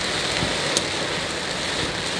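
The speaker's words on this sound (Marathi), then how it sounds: "रस्त्यामध्ये भरपूर खूप पाऊस पाणी साचलेलं आहे" Heavy rain pours steadily onto flooded streets in Pune, a dense continuous hiss of falling water with a single brief sharper spatter near the start and no voices.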